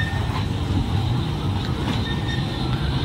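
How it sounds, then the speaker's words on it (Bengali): A low, steady rumble with a faint rattling rolls on throughout, like a train moving past at a little distance. "এই ট্রেন যাচ্ছে, তোমরা দেখো এই ট্রেন যাচ্ছে।"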